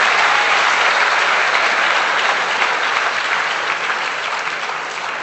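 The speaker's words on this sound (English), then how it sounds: "I think these three people have made a deal. Every question we ask, please applaud." Seated audience at a Sadhguru talk breaking into sustained, dense applause, loud and steady at first and easing slightly toward the end, with no talking over it.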